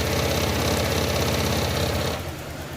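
A Honda Click 125 V3 scooter engine idles after starting, a loud, steady close-up mechanical chatter that drops slightly in level near the end, with no talking.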